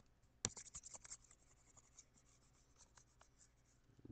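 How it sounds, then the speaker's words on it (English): Written working on a board or page being erased, a quiet run of short scratchy rubbing strokes with one sharper stroke near the start, then softer intermittent scrubbing that fades out. "And again, I'll erase this."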